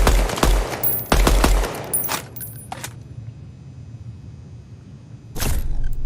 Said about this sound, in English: The pulse rifle from Aliens.